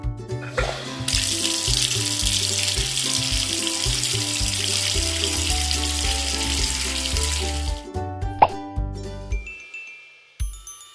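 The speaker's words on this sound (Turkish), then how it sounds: "Ve duş. Hem de fil hortumuyla." A toy shower with an elephant-trunk hose sprays water in a toy baby-bath setup, a steady hissing spray lasting several seconds over a rhythmic low electronic melody, then stopping, with a few clicks and music continuing.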